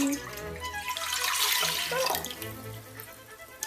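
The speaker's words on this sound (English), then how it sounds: "So we're actually just going to pour both cans of coconut milk in." Two cans of coconut milk pour into a pot for a Vietnamese sweet sticky rice dessert, a continuous close liquid glugging and splashing that swells midway and then tapers, with faint talk underneath.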